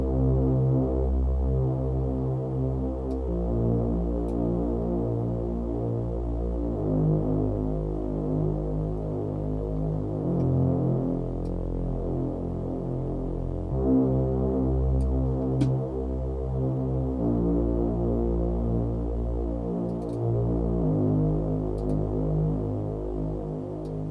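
A steady, droning synthesizer tone from one oscillator shaped by LFOs and filters throbs in slow, repeating pulses, with faint crackly white noise on top and no voices.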